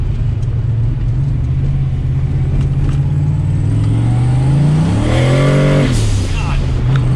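A turbocharged Ford Mustang Foxbody engine idles with a close, steady low rumble, then a rising rev swells and falls back toward idle near the end, with a voice briefly speaking over it.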